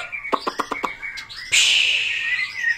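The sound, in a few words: pet bird chirping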